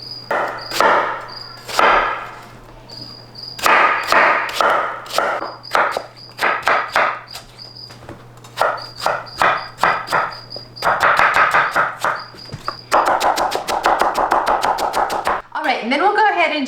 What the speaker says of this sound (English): Okay, then we'll just go ahead and chop them up.